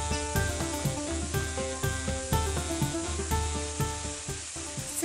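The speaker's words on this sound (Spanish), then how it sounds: "para poner a dorar la carne de cerdo. Este proceso se debe hacer a fuego alto e ir revolviendo" Pork browning over high heat, a steady loud sizzle with repeated scraping and stirring strokes, alone and close with no talk.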